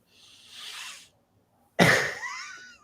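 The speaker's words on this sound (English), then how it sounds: "Sorry, I have to cough." A person coughs close to the microphone: a soft breathy exhale first, a short pause, then one sharp forceful cough with a rasping tail, nothing else around it.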